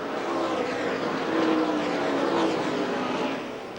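AUSCAR/NASCAR stock cars racing side by side, door handle to door handle, at the Thunderdome oval, a loud sustained engine roar with rising and falling pitch as they pass close by, slightly fading at the end.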